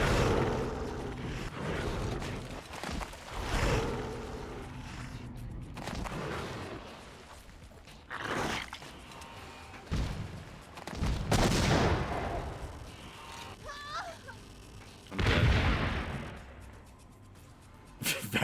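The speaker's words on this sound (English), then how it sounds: "The explosion sound is the most stock sounding explosion sound I think I've ever heard." Stock explosion effects from the video game BloodRayne: Terminal Cut, a series of loud booming blasts with rumbling tails spaced across the stretch, mixed with other game sounds and no talk.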